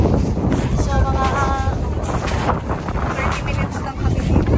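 Strong wind buffets the microphone in gusty rumbles at the Columbia Glacier, with a voice speaking briefly beneath it outdoors.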